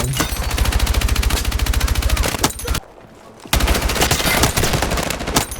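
Long bursts of automatic fire from an L110 or M123K 100-round assault rifle in Battlefield 6 battle royale, loud rapid rhythmic shots, one brief pause, then another sustained burst.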